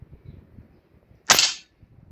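A single sharp crack from a break barrel airgun with a combo scope, fired from a bog pod rest, loud and close, standing alone against a quiet outdoor background.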